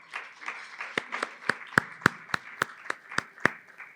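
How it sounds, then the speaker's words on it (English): An audience claps at a journalism awards ceremony, the Nat Nakasa Awards for Courageous Journalism, with a scattering of distinct, fairly close hand claps in a loose, uneven rhythm over about four seconds before the applause fades. "A round of applause, everybody."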